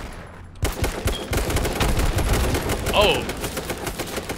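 Rapid bursts of automatic gunfire crackle close by in the H1Z1 battle royale game, dense and loud for several seconds, with a player briefly exclaiming over the shots.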